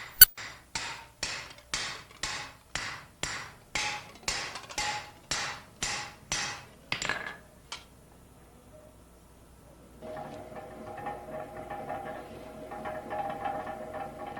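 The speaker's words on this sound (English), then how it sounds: "By hammering the cooled steel, surface irregularities and twists are flattened out, and the steel is compacted by the hammering." Steel saw blade being hammered flat after cooling: about eighteen sharp, evenly spaced metallic blows in quick rhythm, close and clear, then a pause and a steady mechanical hum from workshop machinery.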